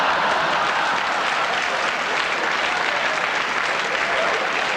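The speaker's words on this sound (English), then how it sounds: "Bit of a round of applause there." Steady, dense audience applause fills a comedy show in a large venue, loud and continuous from many hands without a break.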